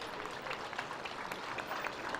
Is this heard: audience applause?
yes